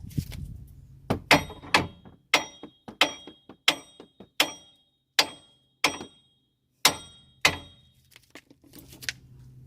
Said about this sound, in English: Use the 8-pound hammer. You hit it right here.